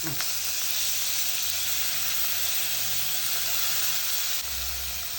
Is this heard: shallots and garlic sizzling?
yes